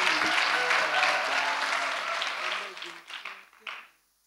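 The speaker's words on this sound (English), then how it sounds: "So give a round of applause to her." A dense round of applause from a church congregation at a Mother's Day celebration, steady at first with a voice over it, then fading into a few last claps and ending in silence.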